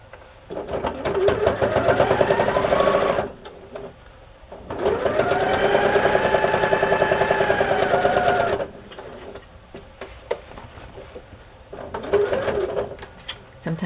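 A sewing machine running a straight stitch on fabric for a journal cover, in two long steady whirring bursts separated by pauses, then a short third run, with faint handling noise in between.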